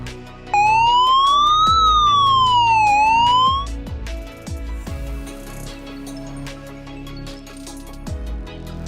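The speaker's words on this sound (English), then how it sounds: "play a siren if someone tries to steal the device" A Qubo video doorbell's tamper alarm sounds a loud, rising and falling electronic siren wail for about three seconds, followed by softer tones and clicks.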